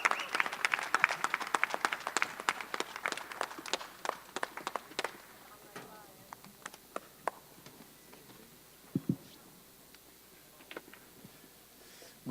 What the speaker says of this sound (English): Round of applause to the champ.